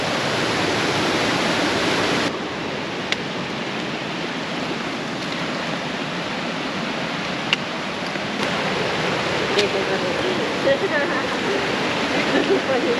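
Steady, loud rushing water fills the whole stretch, a constant broadband roar with a few faint clicks and knocks on top.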